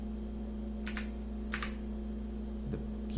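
A mechanical gaming keyboard is tapped in a few crisp clustered keystrokes, quiet and close, over a steady electrical hum.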